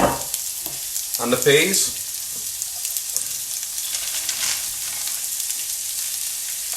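Onions sizzle in a hot pan for a beef curry, a steady hiss with a burst of louder crackle and a few stirring scrapes early on, while a voice speaks briefly.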